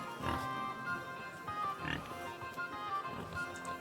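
Several short pig oinks and grunts in a Kingdom Come: Deliverance 2 scene, repeating at irregular intervals over a steady background hum.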